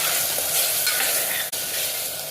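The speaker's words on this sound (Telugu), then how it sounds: "చికెన్ ఈ విధంగా ఫ్రై అయిన తర్వాత కారం, పసుపు, ఉప్పు వేసుకోవాలి" Chicken sizzles loudly in a pan on high flame with chili powder, turmeric and salt, cooking for a potato chicken curry. The frying is steady and close, with stirring scrapes and no talking.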